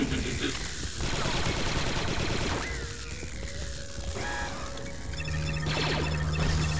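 Continuous automatic blaster fire from the video game Star Wars Republic Commando, with rapid bursts, mechanical clatter and tonal sci-fi effects layered throughout, loud and dense from start to finish.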